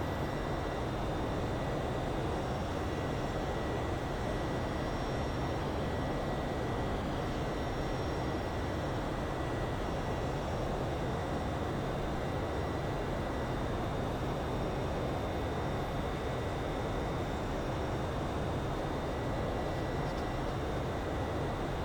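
Steady broadband cabin roar of a Boeing 767's engines at cruise, simulated in X-Plane 11, a constant dense rumble with faint high tonal whine, continuous for the whole stretch with no talk.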